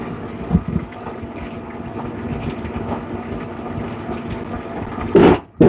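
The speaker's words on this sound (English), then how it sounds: "it's just the sound of the motorbike, the rail bike, rather." A Gapyeong rail bike rolls along its track in Korea, a steady rumbling clatter of wheels on rails with wind buffeting the microphone and a few louder gusts near the end.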